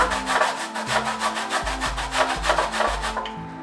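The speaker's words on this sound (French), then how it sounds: "Nous allons venir récupérer, nous allons râper, nous allons gratter comme ça." An orange peel rasped on a kitchen grater in quick, regular back-and-forth strokes, roughly a dozen scraping passes in a steady rhythm, close and fairly loud with no talking.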